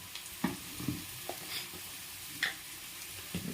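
Curry leaves dropped into hot oil for egg rice, giving a soft steady sizzle with a few sharper crackling bursts and spoon scrapes, close and fairly quiet, with no talking.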